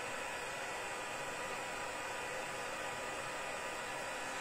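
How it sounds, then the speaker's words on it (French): Heat gun blowing hot air over a Christmas candle holder being crafted, a steady faint hiss of airflow with no talk. "Je prends mon pistolet chauffant."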